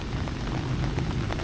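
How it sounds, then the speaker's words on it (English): Rain falling on a town plaza in the Philippines: a dense, steady hiss of drops striking the ground, brief and continuous with no talk. "The rain is letting up a little bit."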